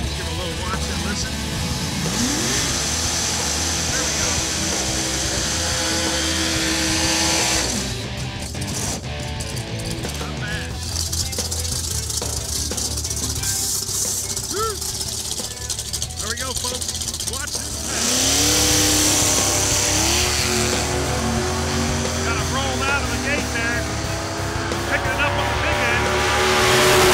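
A drag racing car roars through a burnout, revving hard with rising and falling engine pitch, while people talk over it amid a loud, busy track atmosphere.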